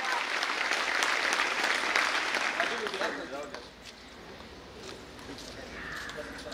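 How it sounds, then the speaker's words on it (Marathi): Hall audience at a Marathi career-guidance lecture series applauds an honoree, dense loud clapping that fades after a few seconds into scattered claps and room murmur. "पुन्हा एकदा जोरदार टाळ्या।"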